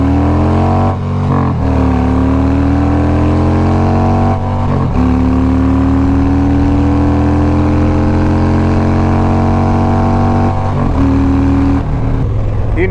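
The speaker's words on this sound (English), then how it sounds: "the sound of a Harley doing this" Harley-Davidson Road Glide V-twin engine revving hard close by, a loud, continuous deep rumble that climbs in pitch with each throttle blip, with brief dips between revs and no talking.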